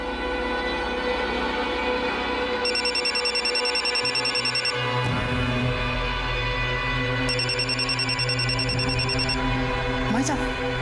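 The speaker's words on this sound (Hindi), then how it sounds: "भाभी का फोन बज रहा है" A mobile phone rings in a home during a puja gathering, two bursts of a high electronic ringtone repeating over a steady background of music and low rumble, fairly loud and clear.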